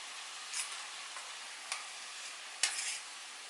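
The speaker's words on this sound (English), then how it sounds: "Now I'm just going to add the potatoes." Potatoes are added to a frying pan and stirred, a soft continuous sizzle with three or four brief scraping and tapping stirs standing out, close but fairly quiet, no speech.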